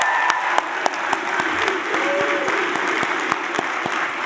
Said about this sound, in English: Graduates, one final round of applause for you.